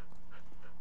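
A modded Minecraft dog gives a short burst of game sound, a faint quick panting or whimpering that lasts under a second.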